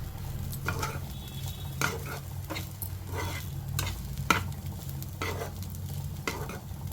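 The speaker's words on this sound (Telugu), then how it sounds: "ఇప్పుడు ఇందులో కొంచెం అన్నం వేసుకుందాం, వేడి అన్నమే. ఇదండి ఇది మొత్తం కలుపుకోవాలి ఇప్పుడు" Hot rice being stirred into a fried mixture in a pan for a kids' lunch box dish, continuous sizzling under repeated scraping and tapping strokes of a spatula, near and without speech.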